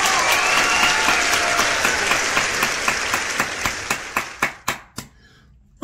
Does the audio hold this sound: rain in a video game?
no